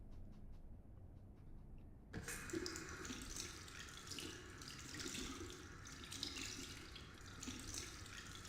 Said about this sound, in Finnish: Jätkä kävi just suihkussa ja pesi naamansa.